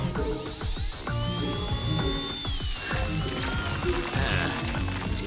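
Cartoon drilling robot, the Fix-It 500, whirring at a mining site, a high rising-and-falling drill whine over clanking mechanical beats and background score.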